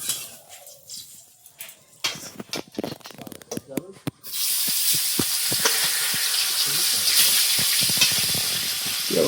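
Frying in hot oil gives a loud, steady sizzle that starts suddenly partway through, following quieter kitchen clatter and scattered knocks. Voices come and go underneath.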